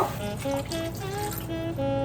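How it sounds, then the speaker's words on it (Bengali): Water pours and trickles into a cooking pot of boiling onions for curry, a steady splashing run with a tonal hum over a low bubbling bed, close and moderately loud. "দিয়ে আমি আরেকটু পানি দিব"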